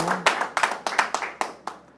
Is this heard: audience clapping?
yes